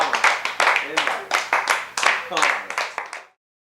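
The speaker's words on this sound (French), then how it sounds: "réveil, on l'applaudit bien fort" A team claps loudly for someone just woken from hypnosis, a run of close, sharp bursts of clapping mixed with voices, stopping abruptly before the end.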